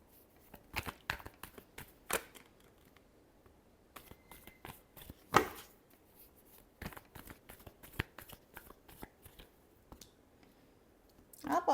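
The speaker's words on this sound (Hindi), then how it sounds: "Last shuffle." Tarot cards being shuffled in a final shuffle, a run of crisp clicking and riffling bursts close by, with quieter gaps between and brief speech at moments.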